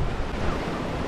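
Ocean surf washes steadily onto a beach at Arugam Bay, Sri Lanka, a soft, continuous rushing wash mixed with wind, with no voices.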